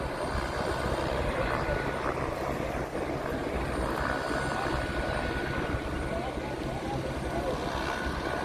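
Steady mechanical drone of a helicopter engine and rotors flying overhead on the route from Panchtarni to the Amarnath cave, constant and fairly loud throughout, with no break in the noise.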